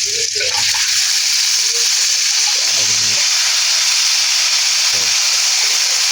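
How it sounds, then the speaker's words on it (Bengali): Kalai greens tossed into a hot pan sizzle with a steady, loud hiss of frying and steam throughout, with brief clatters and some background voices. "এই যে শাকগুলো দিতেছি"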